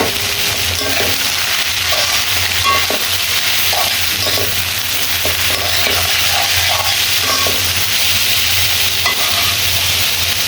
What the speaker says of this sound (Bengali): করলা ভাজিটা আমার নেড়ে চেড়ে দিচ্ছি